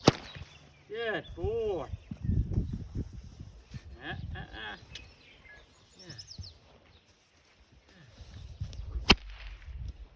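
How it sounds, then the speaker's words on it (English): A cow whip is cracked near a horse during groundwork, one sharp, loud crack standing out near the end, with a voice talking calmly earlier over soft shuffling. "Like I said, I've never cracked a cow whip."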